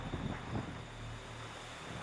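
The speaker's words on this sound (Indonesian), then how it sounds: "Angin kencang sekali nih teman-teman" Strong wind roars steadily and fairly quietly into the microphone outdoors at night, a continuous rushing buffet with low rumbling gusts and no speech.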